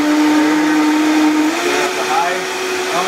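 A Vitamix blender whirs steadily as it blends coffee with butter, coconut oil and honey, a loud close motor drone whose pitch shifts and climbs as the speed changes partway through, with no one talking.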